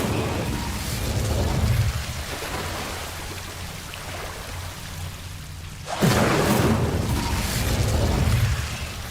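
An Incendio fire spell in Hogwarts Legacy erupts with a sudden whooshing burst of flame that swells into a roaring crackle over a steady rumbling background.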